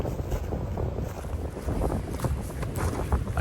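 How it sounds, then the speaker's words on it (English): Strong gusting wind on the Appalachian Trail roars continuously through the forest and buffets the microphone in loud, broad rumbling surges, with no voices. "Wind is crazy."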